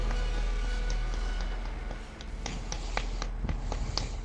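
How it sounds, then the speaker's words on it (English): A back scratcher slapped against a thigh makes scattered light taps and slaps over a steady low hum, spread across a few seconds. "I was slapping my back scratcher against my thigh"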